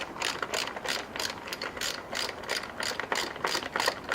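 A ratchet fitted with a 10mm socket clicks steadily as it works a bolt loose on a 2006 Toyota Corolla engine, a rapid close run of pawl clicks in repeated strokes with no talk.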